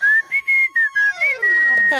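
Loud, close human whistling: several short piercing notes at a steady pitch, then a longer held note that wavers slightly, sounding alone with no talk.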